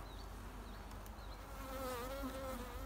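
Honeybees buzzing around an open beehive during a mite check, a dense steady drone close to the listener with a few individual bees whining past, and no other sounds.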